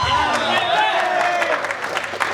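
Audience applause at a film audio trailer launch, a dense crowd clapping loudly over a blur of overlapping voices, the noise easing slightly toward the end.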